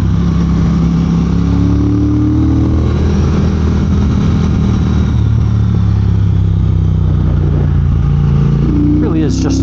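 Triumph Speed Twin motorcycle cruising steadily in third gear at around 3,000 rpm, a continuous loud engine drone with rumbling exhaust harmonics and wind noise, someone talking over it.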